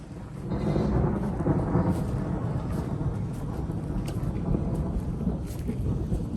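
Steady rain falls through a thunderstorm, with deep rolling thunder rumbling loudly and continuously over the patter of the downpour.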